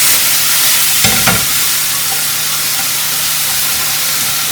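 Beef stir-frying in hot oil in a pan at a Chinese cooking demonstration, a loud continuous sizzle and hiss with a couple of brief bursts as the food is tossed, close and without talk.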